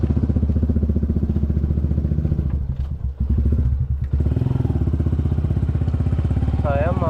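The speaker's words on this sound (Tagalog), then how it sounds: "mag-iiba yung ano, mag-iiba yung tunog ng motor." A water pump's motor runs loud and close with a steady rapid pulsing drone, briefly dipping and thumping midway before resuming, while people talk nearby.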